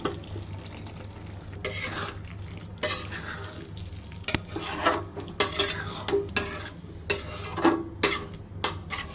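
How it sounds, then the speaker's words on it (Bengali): Fried meat tipped into sizzling spice paste in a pan and stirred, a continuous soft frying hiss broken by repeated scraping and clinking strokes of a spoon against the pot, growing busier toward the end, close and without talk. "এবার মাংসগুলো দিয়ে দিব, ভেজে রাখা মাংস দিয়ে দিব।"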